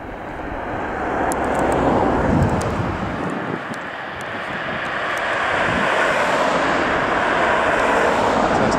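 Airlander 10 airship flying over Cardington airfield, a steady broad engine drone that stays loud and continuous with outdoor wind rumble throughout.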